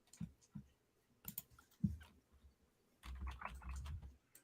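Fingers click on a computer keyboard during a live gardening stream, sparse bursts of close, quiet keystrokes with gaps between them, then a denser run of taps at the end.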